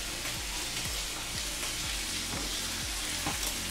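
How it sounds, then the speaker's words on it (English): Food fries in a pan with a steady sizzle while being stirred, the spoon scraping in a regular rhythm of repeated soft strokes close by. "And then you just stir that together."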